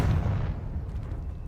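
A Confringo explosive spell cast in Hogwarts Legacy lands as a heavy, rumbling blast at the start and fades into a low roar, with no voices over it.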